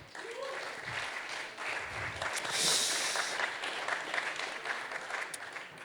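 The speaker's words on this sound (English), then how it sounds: "So you can give them a good round of applause" An audience at a startup accelerator demo day gives a sustained round of applause, a dense, even wash of clapping that swells slightly midway and carries on steadily throughout, with no speech over it.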